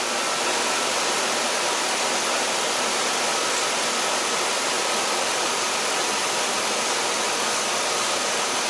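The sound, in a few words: car engine idling while RPM stabilizes, checking cylinder misfire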